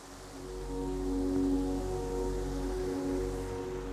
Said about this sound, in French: Nous sommes ici devant la cascade de la Biche, 30 mètres de hauteur.